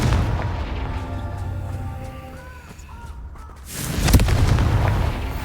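Confringo blasting spell in the Hogwarts Legacy video game, a loud booming burst around four seconds that rumbles on to the end, following quieter game ambience with faint tonal sounds.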